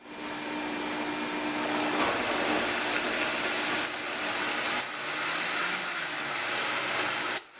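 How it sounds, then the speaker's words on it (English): A blender whirs steadily as it purées canned tomatoes seasoned with oregano and basil, a loud continuous motor drone with slight shifts in pitch for several seconds before abruptly cutting off. "Now I'm just gonna blend those."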